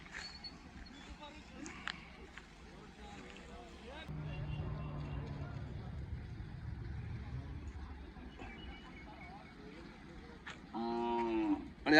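Dairy calves moo in long, low calls amid a busy cattle fair background at the Siddaganga fair, with people talking nearby and a louder bellow near the end.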